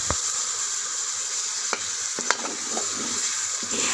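Chicken curry with nearly cooked potatoes simmering and frying in a pan, a steady close sizzle with a few sharp clinks and a brief gush as water goes in, no voices.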